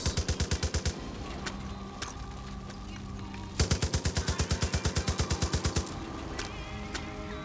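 Rapid bursts of automatic gunfire ring out in Far Cry 5, a loud rhythmic string of shots at the start, then a longer burst in the middle, over steady background game noise.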